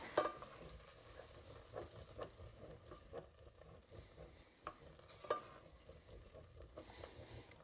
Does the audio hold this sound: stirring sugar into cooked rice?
yes